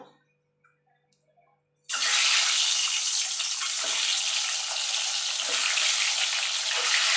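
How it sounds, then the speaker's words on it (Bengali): Near silence gives way to a sudden loud burst of hissing sizzle as eggs drop into hot oil, continuing steadily with faint crackles. "এবার আমি ডিমগুলোকে ভেজে নেব।"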